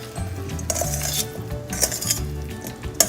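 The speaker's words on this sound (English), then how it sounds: "And we're gonna mix it very well." Aloo faliya sabzi of potatoes and green beans being stirred in a pot, with a spoon scraping and clinking against the metal over a low sizzle, close and steady for about three seconds.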